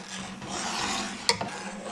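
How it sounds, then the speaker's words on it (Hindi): A spoon stirs a custard mixture in a pot, making soft, continuous scraping and swishing, quiet and close, with one brief sharper clink of the spoon against the pot. "और साथ ही बराबर चम्मच हिलाएंगे।"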